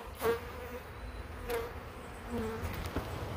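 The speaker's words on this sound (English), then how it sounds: "Sorry, the bee's trying to sting me." Honey bees buzzing around a swarm trap holding a laying queen, a steady insect drone with a few louder passes of a bee flying close, near and fairly quiet.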